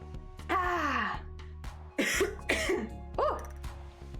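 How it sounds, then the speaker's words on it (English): A person coughs in several harsh, strained bursts close by, mixed with groaning, wheezy vocal sounds. "I'm being caught by coughing again."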